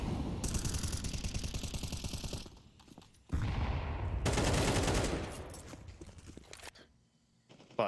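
AK rifle fire from Counter-Strike 2 at a competitive esports match: dense bursts of rapid, loud shots crackle in two main volleys, separated by short quieter gaps with scattered footsteps.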